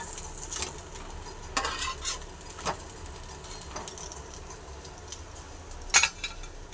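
Pumpkin leaves fry crisp in a pan. A faint steady sizzle runs throughout, broken by several sharp metallic scrapes and clinks from turning them with a utensil.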